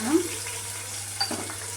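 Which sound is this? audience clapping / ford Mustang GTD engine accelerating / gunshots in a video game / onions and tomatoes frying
onions and tomatoes frying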